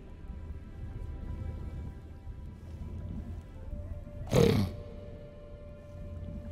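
A single short pig grunt from The Witcher 3, heard in a Velen village setting, rises briefly and clearly above a steady low in-game ambient background.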